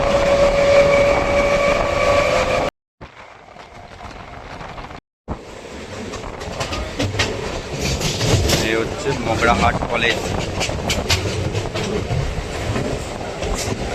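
A Sealdah–Diamond Harbour local train runs near Magrahat through green paddy fields, its steady loud rumble and clatter continuous apart from two brief dropouts, with someone talking over it.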